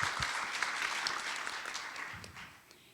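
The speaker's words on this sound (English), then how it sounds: "So maybe just a round of applause." A workshop audience gives a round of applause at the close of a discussion day, a moderate crowd clapping steadily and then thinning out toward the end, with faint low rumbles beneath.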